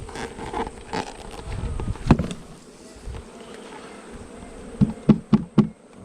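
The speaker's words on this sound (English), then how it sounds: "still a lot of bees in this box. So this is the fun part. We get to shake them down into this box." A honey bee swarm buzzes loudly as it is shaken down into a wooden hive box, with a steady hum broken by several sharp knocks and thuds near the end.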